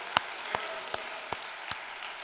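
In a Korean church's Sunday main worship service, five slow, evenly spaced claps ring out over a steady low background hum, fairly faint and with no voices.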